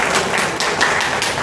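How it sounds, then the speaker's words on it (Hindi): A rally crowd claps in a dense, continuous burst of applause, loud and close, with no voices over it. "उनके हौसलों के लिए ताली बजाइए"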